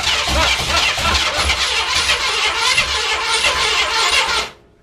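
A car engine in a home shop, fighting a fuel problem, cranks and catches roughly. It is loud and close, with a continuous rough churning for about four and a half seconds before it abruptly cuts off, and no voices.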